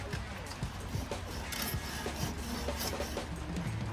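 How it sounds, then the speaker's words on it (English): Hand hacksaw cutting through metal stock in a lathe shop, giving a steady, close rasping of rhythmic back-and-forth strokes with no pauses. "This hacksaw is really annoying."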